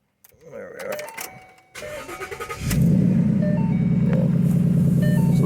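A 2014 Mustang GT with a Corsa quad-tip exhaust cranks over and fires, settling into a loud, steady, deep idle rumble after a few seconds of starter noise and clatter, with someone talking.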